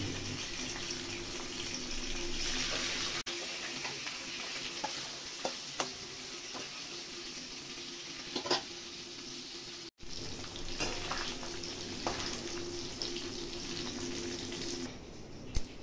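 Steady sizzling of fish frying in hot oil, with a few clinks and stirring sounds scattered throughout; no voices.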